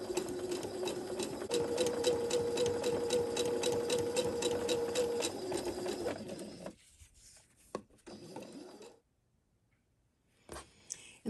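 A home sewing machine chain-sews the seams of a no-waste flying goose quilt block in a steady, fast mechanical whir for about six seconds, then stops, leaving quiet with a few soft fabric and handling noises.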